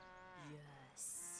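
A cow in the video game Divinity: Original Sin 2 lets out a single drawn-out moo, faint and low. A brief hissing burst follows at the end.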